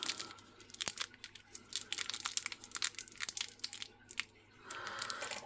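Crinkly plastic packaging of a miniature french fries kit crackles and rustles close by in irregular bursts as it is pulled open, with brief pauses between handlings.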